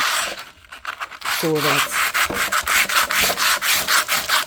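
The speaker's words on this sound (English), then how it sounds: "I'm now trying to sand it" A cut wooden shelf board sanded by hand, heard as steady back-and-forth rubbing strokes close by, rasping and even in rhythm, with a few spoken words between strokes.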